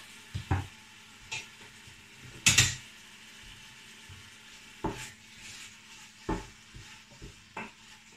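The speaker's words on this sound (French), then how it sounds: "Voilà, que je vais faire revenir avec les oignons." Meat browning with onions in a pan for a lamb tajine, with quiet stirring and scraping strokes, several sharp clinks and knocks over a faint steady sizzle.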